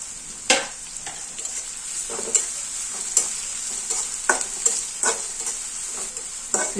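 Chopped onion frying in a pan on a gas stove, a steady soft sizzle broken by repeated scraping stirs of a spatula at an uneven rhythm, close by, with no voices.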